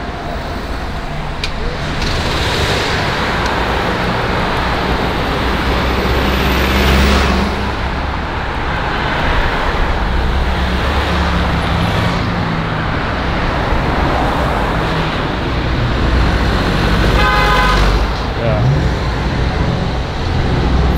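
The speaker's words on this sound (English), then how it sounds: "Crazy traffic here" Dense, continuous street traffic in Bourj Hammoud, Beirut, a steady roar of passing cars and heavier vehicles close by, with no clear horn blasts standing out.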